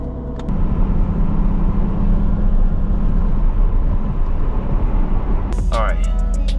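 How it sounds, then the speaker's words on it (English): A car drives a short distance along nearby streets, its engine and road noise rumbling steadily from inside the cabin, ending with a brief click and rattle. "So let's go ahead and let's drive over there."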